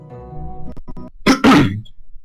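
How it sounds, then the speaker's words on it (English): A hum fades out, then a sharp explosive burst and a second louder blast, like a close sudden cough or sneeze, followed by quiet. "Sorry, I had the cough there."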